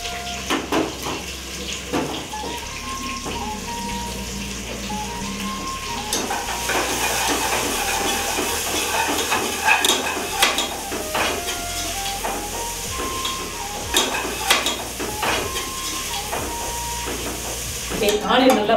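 Onions fry in a pan with whole garam masala and green chillies, giving a steady sizzle and hiss as a spoon stirs and scrapes repeatedly, with some background sounds mixed in.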